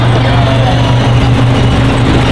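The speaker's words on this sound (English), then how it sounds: "And there goes the train ride." A zoo train ride rolls past along a pathway at the front of a zoo, giving a steady, loud low engine rumble with a constant hum throughout.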